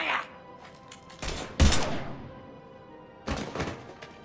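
Gunfire in the Mass Effect 3 video game: a few heavy, booming shot bursts spaced across a couple of seconds, sharp and loud against a quiet background.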